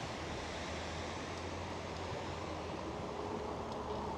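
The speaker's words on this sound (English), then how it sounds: "it's higher up, so it is a waterfall for sure" A waterfall along a river trail, heard as a steady, even rushing wash of water at low level, unchanging and alone with no voices.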